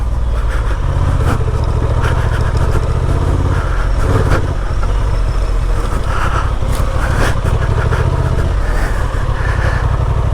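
A 2023 Honda Transalp 750 motorcycle rides along toward asphalt with a loud, steady engine drone and low rumble from close on the bike, plus wind buffeting and a few rattles throughout.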